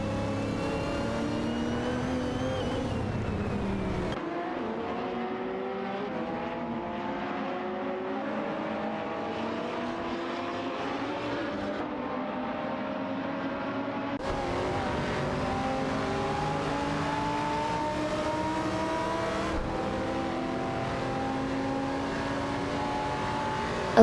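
Race cars, including a Dodge Viper GT2 and a Gillet Vertigo, roar through a racing video game, their engines revving up and shifting gears in rising and falling sweeps. The engine sound is continuous, and nobody talks.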